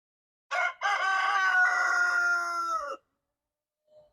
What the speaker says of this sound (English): Do you like the chickens?